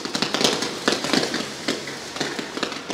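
Category 1 consumer fireworks go off in the Dutch province of Zeeland at New Year, making dense, continuous crackling and popping bursts. The sound is loud and fairly near, with no talk over it.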